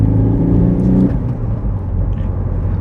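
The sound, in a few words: Citroën C4 engine accelerating hard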